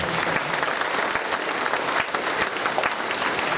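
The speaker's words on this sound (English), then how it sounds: "So if you would give Dean McMoy a round of applause" A crowd at a nursing pinning ceremony applauds steadily throughout, dense clapping at an even level with no pauses.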